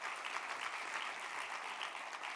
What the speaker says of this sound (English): you're clapping for the wrong guy